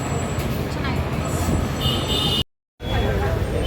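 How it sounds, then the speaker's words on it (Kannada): A train rumbles loudly and steadily nearby at a railway station, wheels grinding with a faint squeal, then the sound briefly cuts out before resuming. "ಫೈನಲಿ ರೈಲ್ವೆ ಸ್ಟೇಷನ್ ಅಂತ ಬಂದ್ವಿ."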